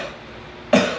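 A single sharp cough bursts out near the end after a stretch of quiet room noise, loud and close.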